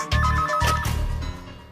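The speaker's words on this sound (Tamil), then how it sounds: "Phone sir. கேக்குது." Phone ringing, a bright electronic ringtone with repeated tonal bursts, loud and close, starting abruptly and fading slightly toward the end.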